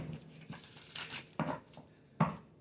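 Cards from a double-sided deck being shuffled by hand, a few sharp papery riffles and rustles arriving in short bursts, close and fairly quiet.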